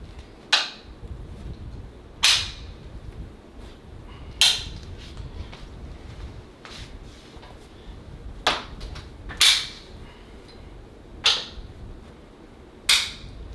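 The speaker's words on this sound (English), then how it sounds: "So now I'm gonna take my side clamps off." Side clamps are unclipped from a quilting frame, giving a series of sharp snapping clicks spaced a second or two apart, about eight in all, close and distinct over a quiet room.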